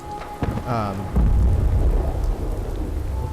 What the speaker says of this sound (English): That sounded like a rad storm rolling in